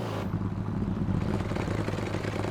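A Ducati V4 S motorcycle engine in GTA V drones at a steady low pitch, rumbling continuously like an idle or gentle rev, fairly quiet with no voices.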